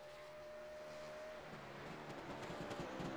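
Race cars in a simulated Bathurst racing game session run steadily on track, a continuous engine drone with a shifting pitch and faint tire noise, no talk over it.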